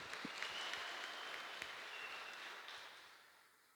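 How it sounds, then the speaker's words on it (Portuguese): Applause from a congregation during a Baptist church service in Castanhal, Brazil, a steady wash of clapping that holds for several seconds before slowly thinning out near the end. "Um aplauso de parabéns."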